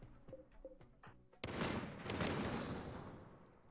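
Weapons firing in the video game RimWorld: a few faint tonal blips, then a sudden dense burst of gunfire that sustains as a rough, noisy roar for over two seconds.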